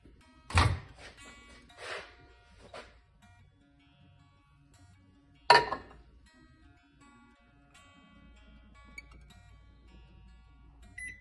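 Microwave oven heating tamarind in water: two heavy door clunks and a few soft ticks and beeps, followed by a low steady hum, with long quiet gaps between.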